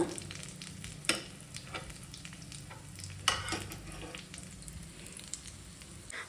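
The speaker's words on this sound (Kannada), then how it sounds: "ಸ್ಟಾರ್ಟಿಂಗ್ ಹಿಂಗೆ ಎತ್ತಕ್ಕೆ ಹೋಗಬೇಡಿ, ಸ್ವಲ್ಪ ಫ್ರೈ ಆಗಲಿ." Corn cutlets fry gently in a pan over a low flame, a soft continuous sizzle punctuated by two sharper utensil knocks and light scraping.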